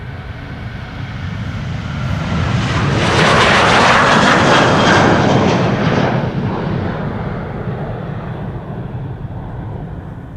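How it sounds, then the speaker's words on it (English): A 20-year-old KLM Boeing 737-900 departs Amsterdam Schiphol for Stockholm, its jet roar swelling to a loud peak a few seconds in, then slowly fading as the plane climbs away. "737-900 to Stockholm. KLM flight 1219."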